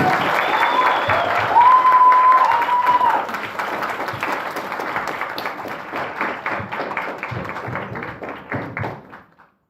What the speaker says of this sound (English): Applause for Tomek.